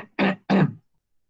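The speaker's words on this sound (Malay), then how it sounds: "Kena ingat masalah berdehem ni" Two short, forceful throat clearings in quick succession from a single person, close and clear, followed by silence.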